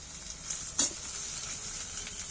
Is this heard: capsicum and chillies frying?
yes